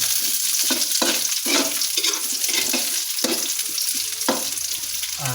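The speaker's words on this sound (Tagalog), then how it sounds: "Lagay na po natin ang sibuyas." Onions tipped into a hot pan and sautéed, a steady close sizzle and crackle with repeated scraping stirs over the top and no talking.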